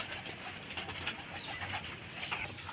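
Soft pigeon cooing amid a busy, noisy background, steady low murmurs with faint rustling, no speech.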